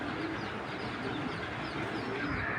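A dense wash of cooing from pigeons kept as a breeding pair and flock carries on without a break, with scattered chirps and no talking.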